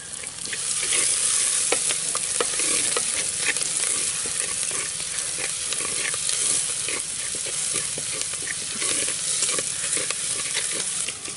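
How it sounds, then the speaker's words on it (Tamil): Curry leaves dropped into hot oil with onions and fenugreek for tempering a village vegetable curry, a steady bright sizzle with repeated scrapes of stirring throughout, close and without talk. "தாளிக்க கொஞ்சம் கருவேப்பிலை சேர்த்துக்கலாம்."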